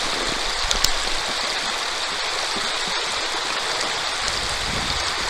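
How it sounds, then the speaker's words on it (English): Water of the Lower Eel River flowing over gravel, a steady broadband rush heard up close at an even level throughout, with no voices over it. "Man, if this river were flowing stronger."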